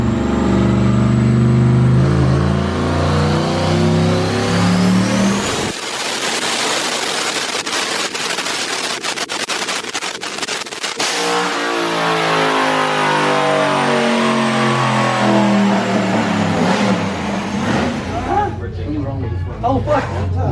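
A Dodge Challenger Hellcat T/A, tuned and fitted with an aftermarket exhaust, revs hard on a dyno. Its engine note climbs and falls through loud sweeps, and voices talk over it.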